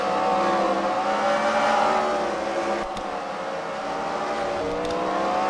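A steady roar of race car engines fills a track at The Freedom Factory fight-night race, with the pitch rising and falling as cars circle and no voices over the noise.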